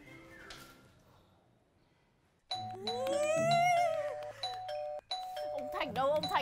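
An electronic doorbell plays a loud, bright chime melody that starts abruptly after a quiet stretch. It repeats in overlapping tones with short breaks between rings, in a Vietnamese comedy scene.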